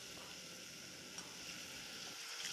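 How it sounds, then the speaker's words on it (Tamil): Chicken pieces hiss and sizzle in a frying pan already holding garlic and crushed ginger, for a village-style chicken dish; a steady, close frying crackle with faint stirring and no talk. "இப்போ நம்ம எடுத்து வச்ச சிக்கன் பீசஸ் எல்லாம் போட்டுக்கலாம்"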